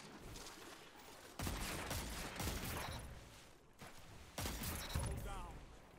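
Video game gunshots come in sharp bursts separated by brief lulls, moderately loud, with a voice talking faintly in the background.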